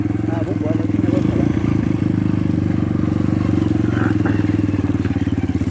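Close, loud dirt motorcycle engine revving hard while kicking dirt backward, a steady rough roar that pulses throughout with faint clatter.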